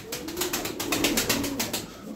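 Tumbler pigeons coo in a low, continuous murmur of overlapping calls, moderately near, with a faint bright hiss over the top and no voices.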